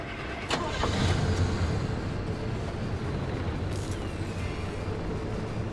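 A car engine running in the driving survival game Pacific Drive, a loud, steady low rumble that holds throughout with a few sharp clanks early on and no talking.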